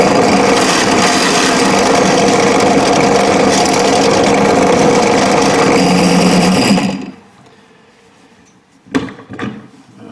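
A 6.5 mm drill bit bores all the way through a piece of wood for a homemade tent rope tensioner, a loud steady grinding whir for about seven seconds, then the drill stops and a couple of brief knocks follow.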